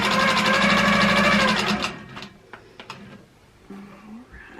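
A sewing machine runs quilting stitches in a fast, steady whirring buzz, then stops, leaving a few soft clicks and a brief restart near the end.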